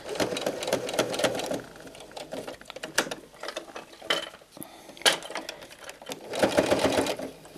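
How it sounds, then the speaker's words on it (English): Sewing machine stitching a leather martingale collar, close, rapid needle clatter in several bursts with short pauses and handling sounds between them, loudest near the start and the end. "We're going to sew along that"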